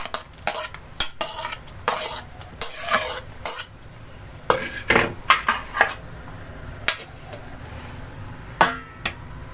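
Large-cut tomatoes added to a frying pan of ojri and stirred, with irregular metallic scrapes and clatters of a spoon over a low sizzle, close and fairly loud, in bursts with short pauses.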